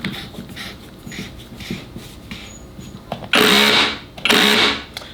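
Festool KHC 18 cordless rotary hammer running in chipping mode: faint handling clicks, then two loud, close, buzzing hammering bursts of about a second each, with no voices.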